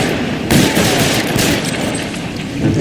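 Gunfire in the video game L.A. Noire, a dense rattling fusillade of rapid overlapping shots that swells sharply after a half-second and stays loud for the rest of the short burst.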